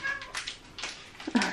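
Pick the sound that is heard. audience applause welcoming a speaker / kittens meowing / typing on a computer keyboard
kittens meowing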